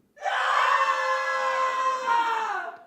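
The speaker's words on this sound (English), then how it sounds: "This is called the scream." Live studio audience screaming together on cue during a game show, one loud sustained collective shriek lasting a few seconds before cutting off.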